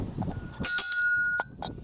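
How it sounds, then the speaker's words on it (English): A bell rings clearly with bright, sustained metallic tones that decay slowly, standing out over quiet background rustle. "Yeah, and I can ring the bell too."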